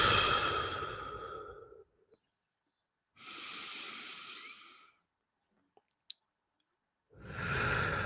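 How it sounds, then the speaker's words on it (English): Three long, heavy breaths drawn close to the microphone, each a breathy rush lasting one to two seconds, separated by near-silence broken only by a couple of small clicks. "Why not breathe heavily so that you can actually hear that?"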